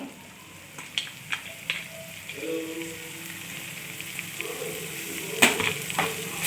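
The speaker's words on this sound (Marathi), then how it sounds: "आता ही पेस्ट पण छान अशी परतून घ्यायची आहे" A ginger, garlic and coriander paste sautés with onion and tomato for a soybean curry, a steady close sizzle broken by sharp scrapes and clinks of stirring.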